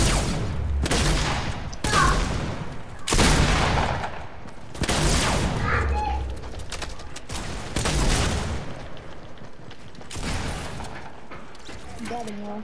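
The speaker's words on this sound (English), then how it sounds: "I'm trying, but I'm getting shot at." Bursts of rapid gunfire from a Fortnite match, repeated volleys and single shots echoing across about twelve seconds, mixed with game effects and a player's voice talking over the fighting.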